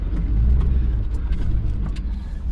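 A Toyota 4Runner rumbles steadily while off-roading on rocky trails in Moab, a loud, close, low engine drone with no talk.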